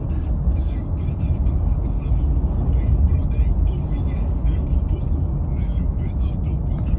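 Ford Fusion Energi Titanium plug-in hybrid cruising on cruise control along a marked road, a steady low road and tyre rumble with engine hum, constant and close throughout.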